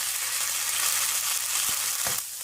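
Garlic paste fries in a little oil, a loud, even, close sizzle that fills the whole moment, with a couple of brief scrapes from stirring near the end.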